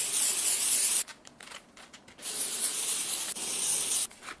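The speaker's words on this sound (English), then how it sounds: "Take my dry shampoo. This is a lifesaver with synthetic wigs." Dry shampoo sprays from an aerosol can onto a synthetic wig in two long hissing bursts, each about a second or two, with a brief gap between them and a short tail at the end. No one speaks.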